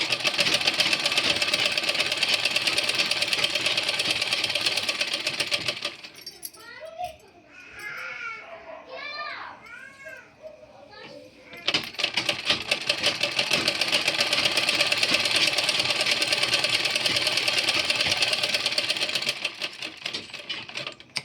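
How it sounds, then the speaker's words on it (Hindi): A sewing machine stitching a trouser pocket, a loud rapid mechanical whirr in two long runs with a quieter pause between them, while a voice is heard faintly in the pause. "आपको सीधी सिलाई लगानी है, बिल्कुल आसान है जेब लगाना।"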